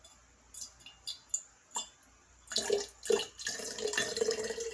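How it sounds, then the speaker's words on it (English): Water, a third of a cup, is poured into a bowl for a zoodle pasta salad: a few faint drips and clinks first, then a quiet, steady splashing pour for the last couple of seconds. "next I'm going to add some water to this. So I'm going to add 1/3 cup of water."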